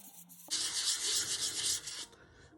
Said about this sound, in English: I'll do more with 400 probably than any other grit, because the higher grits are just for smoothing out the sanding from the 400